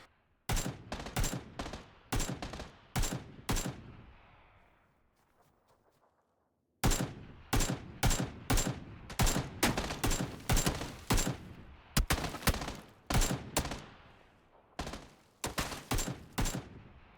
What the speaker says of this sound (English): there's 2 bots fighting right away, and they both have weapons and they're shooting at each other